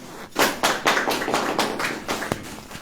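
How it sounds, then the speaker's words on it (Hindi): Congregation at a Christian sermon gathering clapping, a short burst of scattered hand claps fairly close, uneven and fading out within a few seconds. "ताली बजाएं"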